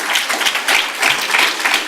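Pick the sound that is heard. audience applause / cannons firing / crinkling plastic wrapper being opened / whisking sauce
audience applause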